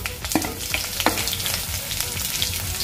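Crushed garlic fries in hot refined oil with cumin seeds, giving a busy continuous sizzle with scattered crackles and a few sharp clinks from a utensil against the pan.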